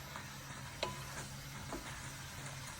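Tripe, cooked for Polish tripe soup, sizzles steadily in a pan under a soft, continuous frying hiss, with a couple of faint taps from stirring.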